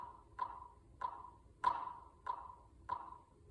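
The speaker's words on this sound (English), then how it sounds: "So with this metronome app, I'm going to set it to 3/4." Metronome app clicking in 3/4 time, a steady series of six sharp, high pinging clicks at an even tempo, with a brighter accented click on the downbeat.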